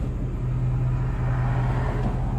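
A Ford Bronco being driven, its engine and road noise forming a steady, loud low rumble from inside the vehicle, with no talking over it.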